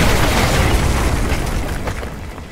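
Danger-close artillery strike in Call of Duty Modern Warfare 2 Remastered, a loud, heavy roar of blasts and debris that slowly fades over a few seconds, with no talk.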